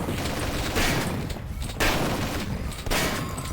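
A speed turret in Duke Nukem: Alien Armageddon fires continuous, loud, rattling bursts separated by short pauses, harsh and close throughout.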